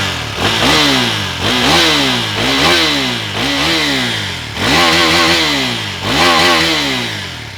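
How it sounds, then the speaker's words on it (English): A KTM Duke 390 BS6 motorcycle engine revved repeatedly while standing, about eight rising throaty blips, each climbing in pitch and falling back to idle, loud and close with no voices. "Let's just quickly listen to the bike."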